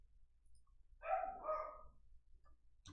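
A puppy gives one short, fairly faint bark-like yelp, a brief burst in an otherwise quiet room with low background hum.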